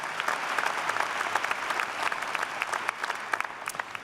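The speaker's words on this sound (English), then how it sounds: "Let's give Jill a round of applause as well." A commencement audience claps in steady, sustained applause, a dense wash of many hands with sharper individual claps standing out, filling the hall with no voices over it.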